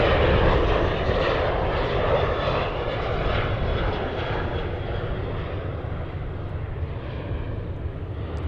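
A Southwest Airlines plane departing Cincinnati airport, its engines roaring loud and steady throughout before easing slightly as it moves off, with no voices.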